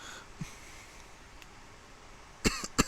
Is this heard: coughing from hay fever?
yes